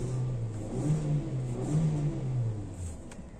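Petrol engine of a John Deere revving steadily and close by, with a continuous low drone that rises and falls slightly over a few seconds, no voices present.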